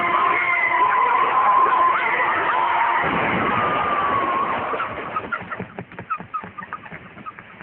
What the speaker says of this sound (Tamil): அது மஞ்ச கொடியா? மஞ்ச லாரி.